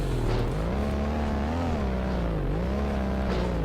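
A car in the BeamNG Drive driving game, its front end damaged and in need of repair, is throttled hard. A loud, continuous engine drone rises and falls in pitch as the revs change, with no one talking.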